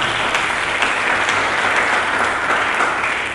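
Enthusiastic applause from a church congregation, a thick continuous roar of many hands clapping together, sustained at a constant level from start to finish.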